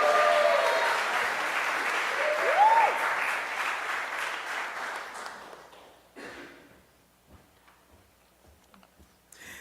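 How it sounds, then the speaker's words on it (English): Sustained applause from a school-event audience for a sixth-grade student at a unity awards ceremony, loud and steady for about five seconds, then fading out into a few scattered claps. "Put your hands together for Khalil."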